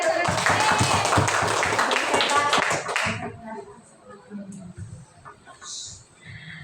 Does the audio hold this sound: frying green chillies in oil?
no